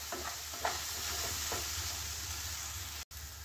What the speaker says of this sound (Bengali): এবার এটাকে একটু সময় ভাজব